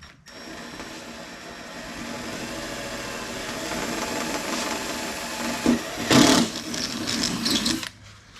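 A power drill whirs steadily at close range, cutting a 6-inch hole in a fiberglass Daytona fender, surging louder with a brief grinding burst near the end before stopping.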